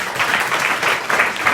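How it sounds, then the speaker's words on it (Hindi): Students at a school workshop applaud a fellow pupil, a dense burst of clapping from a roomful of children, loud and close, without talk. "शिवम कुमार के जोरदार ताली तो बजाओ"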